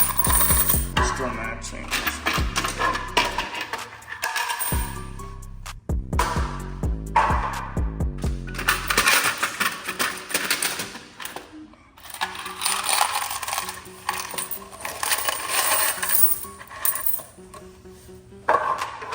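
Coins clink and pour out of a coin box in a sold-out vending machine, with dense, rattling cascades up close and metallic mechanism clatter. A voice speaks briefly.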